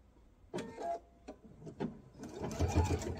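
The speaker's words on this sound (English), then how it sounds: "I'm going to take a few stitches and then reverse a few to reinforce this." Sewing machine stitching a mesh tote, a few short close bursts of whirring and clatter separated by brief pauses, ending in a longer run of stitching.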